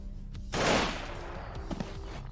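A gunfire salvo in the video game Dead Age II, a short burst of rapid shots with a bright blast cluster followed by fainter trailing pops, moderately quiet overall.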